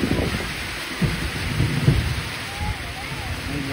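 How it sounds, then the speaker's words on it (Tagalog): Thunder rumbles low through heavy rain during a storm, a few muffled booms rising over the steady rain hiss, with wind noise close by. "Kulog na naman."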